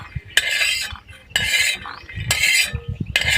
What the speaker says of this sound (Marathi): आता आपण शेंगदाणे काढून घेऊ